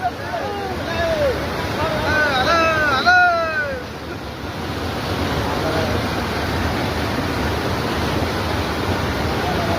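Floodwater from a cloudburst rushes over a bridge, a broad, continuous roar of torrent and wind, with voices shouting and talking over it early on.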